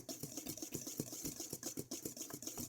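Whisk briskly stirring dry ingredients for pumpkin cookies in a bowl, quiet rapid scratchy taps in a steady repeating rhythm, close and soft.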